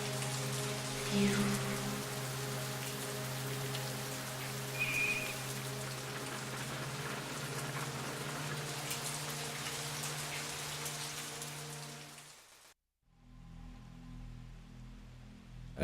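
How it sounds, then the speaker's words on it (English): Dense, constant rainfall in the game Fatal Frame 3 hisses over a low droning ambience, with a faint whistle-like tone partway through; the rain cuts out abruptly near the end, leaving a quieter low hum. "It's still raining, just like it was that day."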